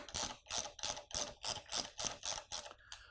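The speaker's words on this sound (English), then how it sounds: "I'm going to use my 3/8 ratchet, my 24 millimeter suspension socket, to remove" 3/8 ratchet turning a 24 mm suspension socket on a Rock Shox Pike fork top cap, about ten quick, even clicks in a steady rhythm, close and crisp, alone.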